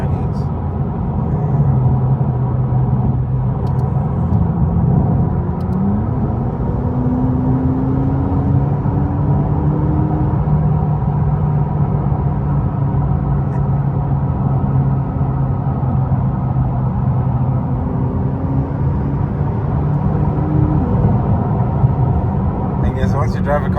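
A McLaren 570S Coupe supercar drives along with a continuous low engine rumble and whir that shifts in pitch as it changes speed, while people talk inside the cabin.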